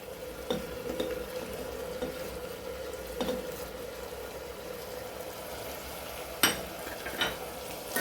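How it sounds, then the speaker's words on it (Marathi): Moong being sautéed in oil with onion and tomato, a soft low sizzle with occasional spoon scrapes and stirring clinks against the pan, steady and fairly quiet throughout. "आता आपल्याला ह्या कांद्या आणि टमाट्यासोबत हे मूग पण छान परतून घ्यायचे तेलावर"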